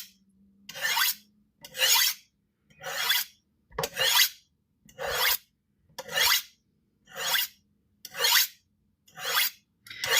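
A kitchen knife is drawn along a honing rod in ten evenly spaced, close scraping strokes, each a short bright rasp separated by brief silence, with no talking.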